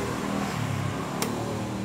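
A Honda Supra X 125 fuel-injected motorcycle, being kick-started with no battery, gives a loud, steady engine roar with a brief sharp click partway through.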